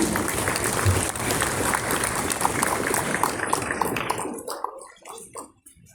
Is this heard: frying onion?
no